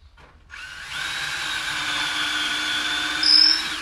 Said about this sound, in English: I'm pre-drilling another hole here